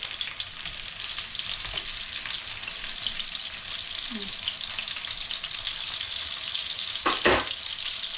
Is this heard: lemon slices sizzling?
yes